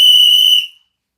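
A small toy whistle gives one shrill, piercing blast that stops abruptly after about half a second, loud and close.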